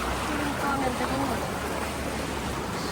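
The Seti River in Pokhara rushes as a steady, broadband wash of flowing water that stays even and fairly loud throughout, with faint voices briefly audible over it near the start.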